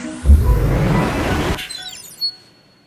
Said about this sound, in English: Ryze Realm Warp ability.